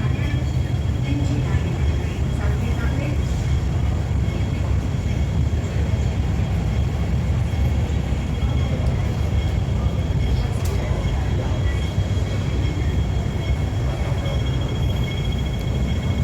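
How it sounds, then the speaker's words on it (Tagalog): A Hong Kong MTR train pulls into a station with a steady, loud rumble of wheels and motors that fills the whole stretch, along with a broadband platform roar and a faint high whine above it. "The train to North Point is arriving."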